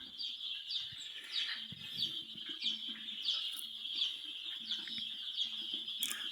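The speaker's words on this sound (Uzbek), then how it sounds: "Andijon qora jo'jalari paypaqli, hammasi paypaqli." Four-day-old Andijan black chicks chirp continuously, a dense overlapping chorus of high, rapid peeps close by, with no talking.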